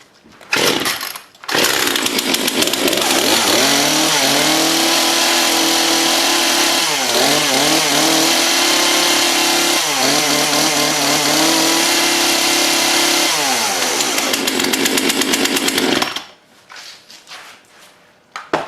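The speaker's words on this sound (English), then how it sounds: "I gathered up a few saws that should work, and yeah, we'll see if we can start them up" Old chainsaws pulled into life one after another and revved hard, a loud, close two-stroke snarl holding steady with repeated pitch swells before cutting off near the end.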